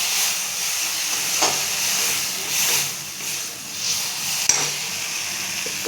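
Spices with a pinch of cumin powder are stirred in a pan, producing a steady hissing sizzle with a few soft scrapes and one sharp clink of the utensil.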